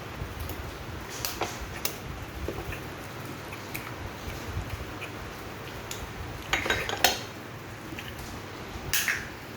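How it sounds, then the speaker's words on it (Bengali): An egg whisked in a bowl for a fish finger batter, faint scattered clinks and taps of utensil against the bowl, with a few sharper knocks toward the end over a quiet kitchen background. "এবার আমি একটা ডিম বাটিতে ফেটিয়ে নেব।"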